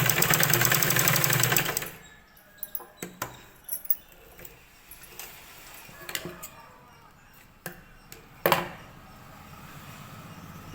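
A sewing machine runs in a quick burst of stitching on a blouse seam for about two seconds, then gives way to scattered clicks and handling taps at close range.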